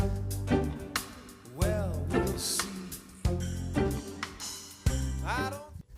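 Drum groove with splash cymbal accents over a steady kit pattern and bursts of sustained tonal music, played loud and continuous.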